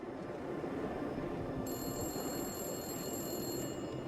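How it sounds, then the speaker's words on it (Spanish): A public payphone rings in the early-morning hours with a continuous electronic bell tone that sounds faint and slightly distant over a soft background noise, with no one speaking. "el teléfono público comenzó a sonar"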